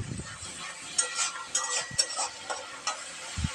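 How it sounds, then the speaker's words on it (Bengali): Potatoes going into hot oil in a home kitchen raise a steady, close sizzling hiss, broken by a few sharp clinks and scrapes of a utensil against the pan. "তেল ছেড়ে গেছে, আলুটা দিয়ে দিই"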